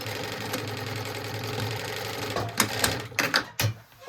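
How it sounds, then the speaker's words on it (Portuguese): A sewing machine stitching a diagonal seam on a backpack strap, running as a fast, even mechanical whir close up, then breaking into a few short stops and bursts near the end. "eu vou costurar ela na diagonal, de ladinho assim"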